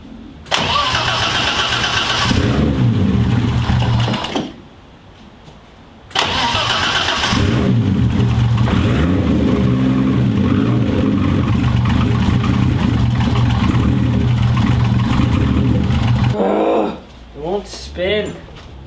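A turbocharged car engine cranks and fires, stalls briefly, then restarts and runs loudly with revving for a long stretch before cutting out near the end, close by with speech mixed in.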